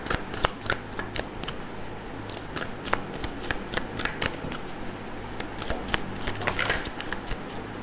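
A deck of tarot cards is shuffled close up, giving rapid, repeated papery riffles and flicks that continue steadily without a break.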